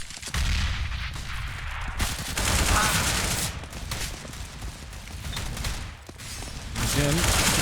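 Pistol fire from CZ and Desert Eagle handguns in a professional Counter-Strike match on the Cobblestone map, sharp repeated shots in bursts mixed with game effects and a commentator talking over it.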